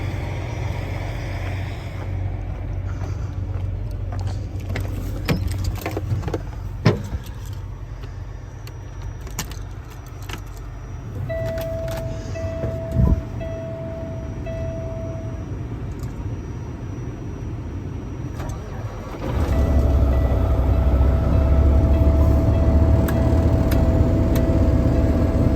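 A big truck's engine turns over and fires up, its low rumble swelling into a loud, steady idle nearby after a stretch of quieter background hum and a few clinks.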